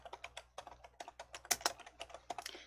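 Close, rapid typing on a computer keyboard during an Excel spreadsheet lesson, with irregular clusters of crisp keystrokes and a few louder presses, and no talking.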